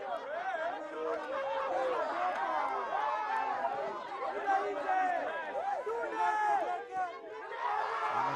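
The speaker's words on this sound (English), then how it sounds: "Silencing this noisy crowd here at Nakuru." A crowd at a rugby match in Nakuru, Kenya, producing a dense babble of many voices, shouts and calls at moderate distance, holding steady throughout.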